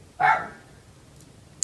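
A dog gives a single short bark indoors, fairly close and loud, followed by quiet room tone with a faint click near the end.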